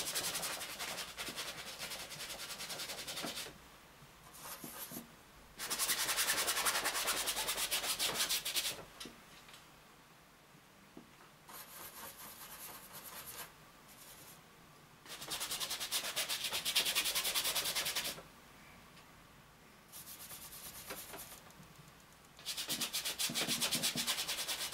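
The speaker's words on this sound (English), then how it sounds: "Just scrubbing in the dark background there." Paintbrush scrubbing dark background paint onto an impasto still life of tropical fruit, heard as close, dry rubbing strokes in several bursts of a few seconds each, separated by quiet pauses.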